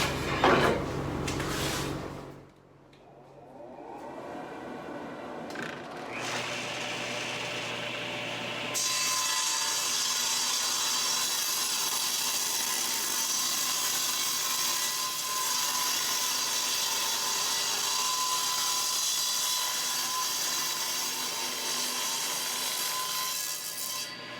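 Table saw ripping a thin strip of wood veneer: the motor starts up, the blade spins with a brief rising tone, then a long steady, loud cutting whine that continues to the end.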